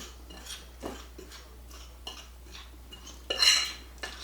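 A utensil stirs flour and black pepper in a bowl, making light clinks and scrapes at an uneven pace, soft and close, with one louder clatter near the end and no talking.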